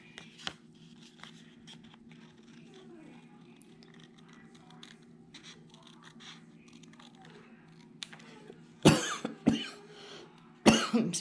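A person coughs several times close by, harsh bursts near the end after quieter scratchy rustling at a table while coloring, with faint background murmur.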